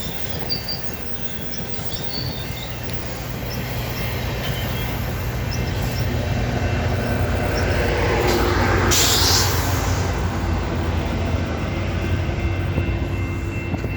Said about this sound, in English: There is a train right here.